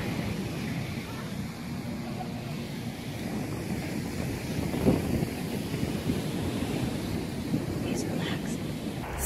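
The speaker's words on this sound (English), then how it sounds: "First beach stop. Pretty amazing." Ocean surf at a Hawaii beach, a constant broad rush of waves mixed with strong wind buffeting the microphone, loud throughout with no clear break.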